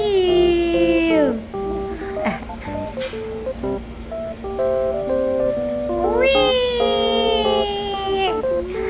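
A cat meows loudly and repeatedly up close, long wavering cries with rising and falling pitch, a siren-like drone running underneath.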